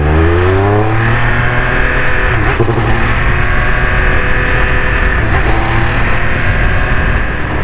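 Triumph Speed Triple 1200RR motorcycle accelerating hard in a pull test, a loud continuous engine roar with rising then steady pitch, close and unbroken, with no talking.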